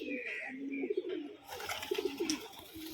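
A Chuya Chandan pigeon, a pet fancy breed kept at home, coos in repeated low throaty phrases close by, with a few faint chirps in the background.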